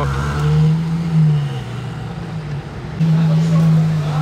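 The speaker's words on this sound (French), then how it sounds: "Et on a donc le départ des Ferrari." Ferrari cars pulling away, engines revving in low, droning bursts that rise and dip, fairly close and loud, with a second surge near the end.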